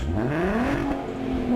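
A Volkswagen car engine in the Forza racing game revs up steadily, pitch climbing then holding, loud and continuous with no talk over it.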